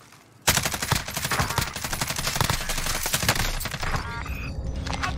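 Rapid automatic gunfire rattles loudly and continuously in the Warzone video game, starting abruptly after a brief quiet moment, with scattered cracks and impacts mixed into the burst.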